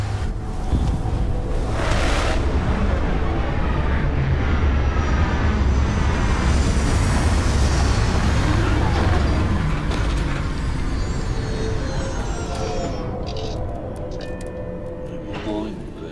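A spaceship touching down in the sci-fi game Starfield, with a loud, steady engine roar and deep rumble running throughout and easing off slightly near the end.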